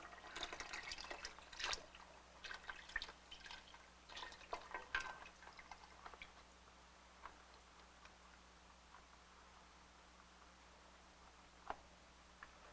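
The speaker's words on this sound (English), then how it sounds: "So let's put the rest of the broth in." Broth poured into a pot of mushroom stew, with splashing liquid and dripping for the first six seconds, then fading to quiet with a lone drip near the end.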